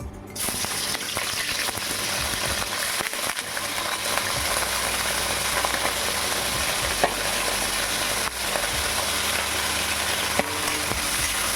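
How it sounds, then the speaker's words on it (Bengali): Prawns sizzle steadily in hot oil in a pan while being stirred, a continuous close crackle of frying with occasional scrape and clink accents throughout. "চিংড়ি মাছগুলো একটু নাড়াচাড়া করে নেবো।"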